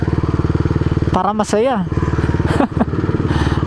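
A motorcycle engine chugs in a close, steady, rapid pulse with a short burst of speech cutting over it midway.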